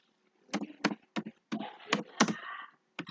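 The Tux Paint drawing app's text tool plays a keyboard-typing sound effect: about eight sharp, quick clicks in an irregular rhythm, fairly faint and close, with no talking.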